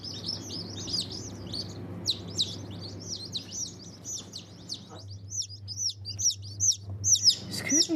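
Newly hatched chicks in a hatchery give high, repeated peeping chirps in a busy, overlapping chorus over a low steady machine hum.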